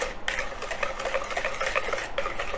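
A spoon stirring cake batter of beaten eggs, butter and sugar for a plum wedding cake, steady rhythmic scraping and sloshing against the bowl, close and continuous.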